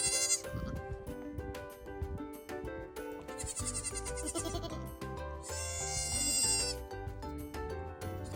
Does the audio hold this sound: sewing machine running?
no